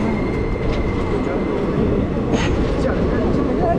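A Duronto Express passenger train, number 22209 on the Mumbai to New Delhi route, runs with a loud, steady rumble heard from on board, along with faint wheel clicks and brief squeals, and soft voices in the carriage.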